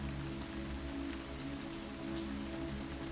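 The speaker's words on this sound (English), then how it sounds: "the soundtrack of the steady rain" Steady rain patters continuously on a surface, an even, dense hiss with a low rumble underneath, no voices.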